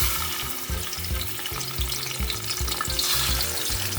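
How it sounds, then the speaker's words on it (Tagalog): Fish frying in a pan: a dense, loud sizzle with crackling oil, close and steady throughout, no talking. "At ito naman guys ay ipiprito naman natin yung ating isda."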